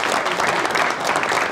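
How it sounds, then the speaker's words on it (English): An audience at a Michigan deer management hunting event applauds steadily for the full moment, a dense, even wash of many hands clapping with no voices rising above it. "I think a big round of applause."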